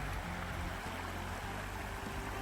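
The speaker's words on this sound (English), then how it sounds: "Here's the babbling brook side of that bridge." Babbling brook flowing beneath a bridge on an island, a steady close rush of water with continuous broadband hiss and gurgle.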